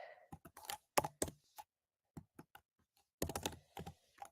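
Typing on a computer keyboard in bursts of quick, close clicks separated by short pauses, with no talking.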